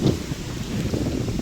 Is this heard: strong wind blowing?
yes